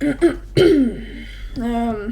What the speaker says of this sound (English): so sorry for having to clear my throat